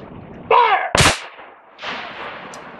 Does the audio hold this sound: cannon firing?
yes